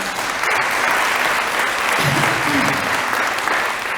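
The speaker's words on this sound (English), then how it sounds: "So one more hand, round of applause." Loud, dense applause from an audience at a State of the City event, honouring the Rosemont Police, sustained and even for the whole stretch, with a voice briefly heard over it.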